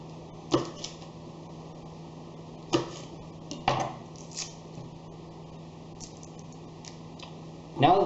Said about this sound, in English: First, we're going to cut the garlic.